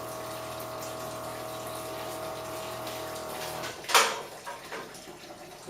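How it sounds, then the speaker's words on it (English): A pump runs on a distilled water rinse for gold plating, a steady hum under flowing water that cuts off, followed by a sharp splash and a few fading drips. "Turn down the pump on our distilled water"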